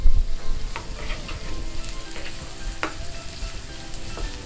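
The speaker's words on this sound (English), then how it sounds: "chop onion, and saute it till it becomes light brown in color" Chopped onion sautéing in oil in a pan for Goan crab xeq xeq: a steady close sizzle with intermittent clinks and scrapes of stirring.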